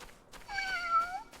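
A cat lets out one clear, drawn-out meow, close and fairly soft, rising and then falling in pitch.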